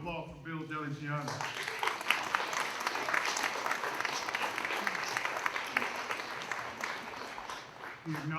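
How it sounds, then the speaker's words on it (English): A crowd applauds at an outdoor Greek Independence Day flag raising ceremony, sustained clapping after a speaker's voice at the start, with a voice returning at the very end. "Another round of applause for Bill Deligiano."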